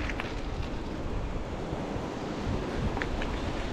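Wind and water wash along the Río de la Plata shore at the Costanera Sur ecological reserve in Buenos Aires, a steady, close, broadband rush with no talk.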